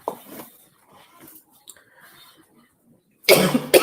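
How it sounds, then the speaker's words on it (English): A sharp, loud burst of coughing breaks out near the end after a stretch of faint, scattered rustling sounds. "all of a sudden, I'm like coughing like crazy"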